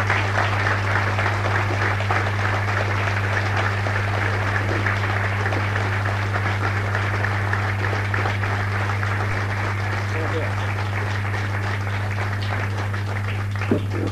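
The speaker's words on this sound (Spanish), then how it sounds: "Recibimos con el aplauso cerrado, diría yo, a Oscar de Lía." Studio audience applause welcoming a guest onto a televised tango show, a steady wash of clapping that holds evenly across the whole stretch over a constant low electrical hum.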